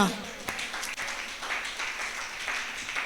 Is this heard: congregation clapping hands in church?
yes